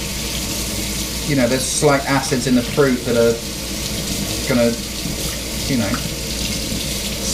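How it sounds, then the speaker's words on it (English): Hot tap water runs steadily into a blender to rinse it, a constant hissing stream with someone talking over it throughout. "you can almost just rinse it off with hot water and it's clean"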